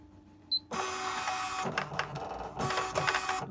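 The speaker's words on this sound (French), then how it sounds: "Et la machine redémarre dans la suite de sa position." A Bernina embroidery machine fitted with a Mega Hoop starts up again after a short beep, then stitches in a steady, fast mechanical whir with brief dips in pace, close and loud, no talk.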